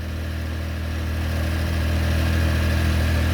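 A 1982 Honda CBX motorcycle engine catches and settles into a steady, close idle, its low throbbing rumble growing slightly louder over a few seconds with no talking.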